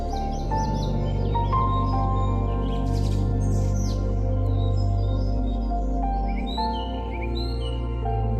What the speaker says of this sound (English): listening to the sound of oars splashing in the water and the chirping of birds calling their